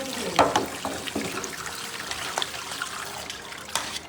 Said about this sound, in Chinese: 现在我们就把鸭肉倒出来清洗一下